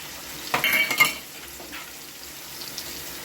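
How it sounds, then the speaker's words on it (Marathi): Ground masala for egg curry goes into hot oil with a close, loud sizzle and stirring scrape that fade quickly into a faint background fry; no talking. "चांगला तेलामध्ये फ्राय करून घ्यायचा"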